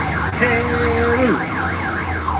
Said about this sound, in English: Honestly, the car alarms, it's crazy.